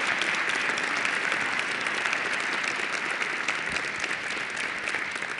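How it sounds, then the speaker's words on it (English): Audience applause for panelists at a media conference panel on journalists' perspectives, a steady, dense roar of many hands clapping at even loudness throughout, with no voices over it. "This is where you sort of burst into spontaneous applause for our"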